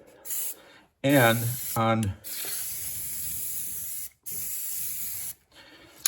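Glue sprays from an aerosol can onto the back of a wooden interior panel during an MG TD restoration, heard as several hissing bursts of a few seconds each with short gaps, broken early by brief speech.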